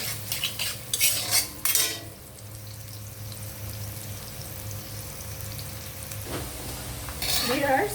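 Potatoes seasoned with salt and turmeric fry in a pan with a steady close sizzle, while a utensil clatters and stirs in short bursts near the start and end.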